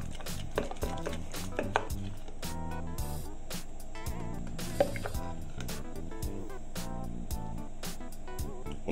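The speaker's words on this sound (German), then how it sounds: "Einmal umrühren." Spoon stirring homemade basil pesto genovese with Grana Padano in a bowl, several soft, irregular scraping and wet squishing strokes close up, with light knocks against the container and no talking.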